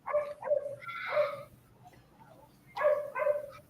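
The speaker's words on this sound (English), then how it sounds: "Don't worry about the dog." Dog barking in short bursts, a few yips and barks close by, then a pause and another pair of barks, with no talk over them.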